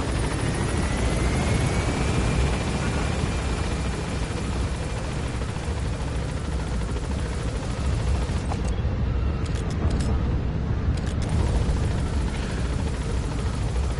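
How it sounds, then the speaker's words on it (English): A helicopter flying in Metal Gear Solid V: The Phantom Pain, a loud, continuous rotor thrum and engine whine holding steady throughout, with a few sharp clicks near the end. "I wish it would let you use your tranq darts from the helicopter."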